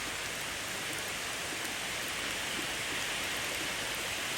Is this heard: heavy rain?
yes